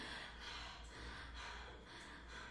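A person's voice imitates an old hermit breathing heavily while digging, making a few faint, rhythmic gasping breaths close to the microphone.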